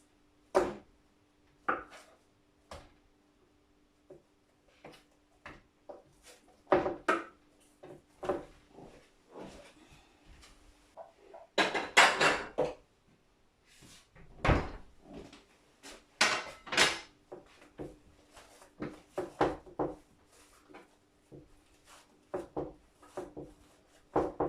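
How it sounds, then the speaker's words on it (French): A knife chops through cassava dough on a board, producing irregular, sharp wooden taps and thuds, sparse at first, then denser clusters of quick cuts, close and fairly quiet with no talking. "Je coupe pour bien mélanger ma pâte."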